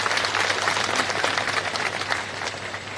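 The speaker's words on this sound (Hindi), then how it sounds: "ये आवाज अभिनंदन और तालियों की गड़गड़ाहट से दिल्ली" A crowd's applause welcoming the chief minister at a statue-unveiling and building-inauguration ceremony, dense continuous clapping at steady loudness throughout.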